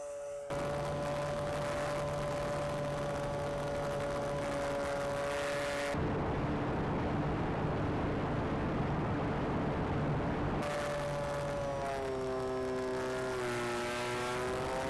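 A balsa model Spitfire airplane makes low passes around a field. Its motor gives a steady, loud tonal whine, cuts away briefly, then returns with a pitch that sweeps downward as the plane flies past.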